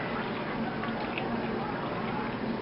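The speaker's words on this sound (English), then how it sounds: "I'm going to add about I want to say about 3/4 cup of water." Water pours steadily into a cooking pan of leftover meat and tomato, a continuous close splashing trickle that holds for a couple of seconds with no talk over it.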